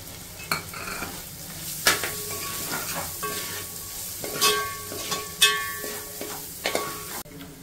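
Half an onion, four chilies and a small carrot cut into tiny pieces stir-fry with fried chicken for street-side style chicken fry, a continuous sizzle broken by repeated scraping and clinking spatula strokes against the pan.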